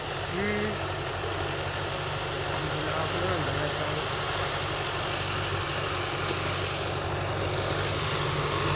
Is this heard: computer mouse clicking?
no